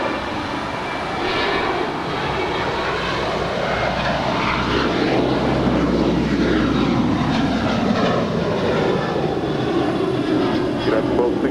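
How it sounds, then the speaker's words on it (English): A United Airlines Boeing 737-800 departs LAX with a steady, loud jet-engine roar that holds throughout, broad and unbroken, with no voices over it. "That was United Airlines Flight 1264 heading to Denver, Colorado, and that's 737-800."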